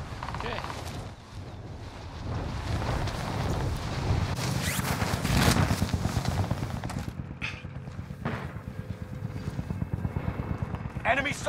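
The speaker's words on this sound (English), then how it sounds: "Enemy attack chopper is in the AO." An enemy attack helicopter in a shooter video game, its rotor chop throbbing steadily and growing louder over wind-like noise, with players talking over it.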